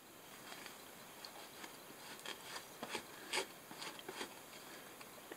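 Fingers rubbing spray into polypropylene surgical wrap fabric, a faint, close, irregular scratchy rasping of short strokes.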